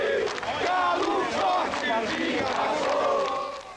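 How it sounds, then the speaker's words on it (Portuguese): Football crowd chanting in unison inside a Brazilian stadium as Atlético supporters sing during the 2005 Brasileirão, a dense, loud choir of many voices that rises and swells steadily throughout. "A torcida reforça o gesto e o coro."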